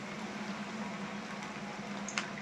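Onion pakora frying in hot oil, a soft, steady bubbling hiss close by that holds at an even level, with one small sharp pop near the end.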